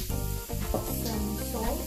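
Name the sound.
sautéing Manchurian gravy ingredients in a pan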